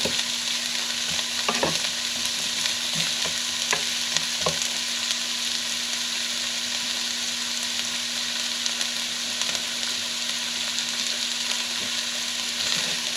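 Ingredients for baked ziti sizzle steadily in a frying pan, a constant crackling hiss up close with a few scraping stirs of a spoon. There is no talking.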